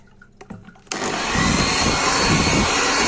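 An electric mixer whisks a sweet cream mixture for Egyptian Mawlid halawa made with a cup of sugar. It starts with a few faint clinks, then its steady, loud whirring drone runs without a break.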